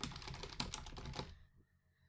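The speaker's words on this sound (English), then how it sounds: "All we need to do is type that in." A keyword is typed into a website's search box on a computer keyboard: a quick close burst of key clicks lasting about a second, then quiet.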